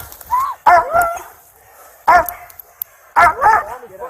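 A dog barks and yelps in sharp bursts, three close clusters separated by pauses, during a police arrest in a motel parking lot, loud and near with brief whimpering tones.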